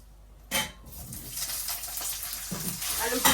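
Potatoes dropped into hot oil in a pan for a hilsa curry with brinjal, a sudden loud sizzle burst followed by steady frying crackle and a few spatula scrapes, close by.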